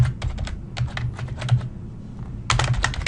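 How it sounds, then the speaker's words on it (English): Typing on a computer keyboard: bursts of quick keystrokes, a pause with a few scattered taps, then a final dense flurry of typing, close and clear with no talking. "And you could type in your question, and you could type in any kind of question"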